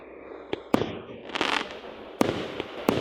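Fireworks bursting outdoors at night, a handful of sharp loud cracks and pops spaced irregularly over a crackling, hissing background, with no talking.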